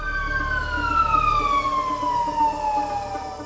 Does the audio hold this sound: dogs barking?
no